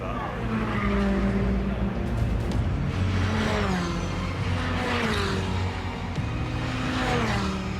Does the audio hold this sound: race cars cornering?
yes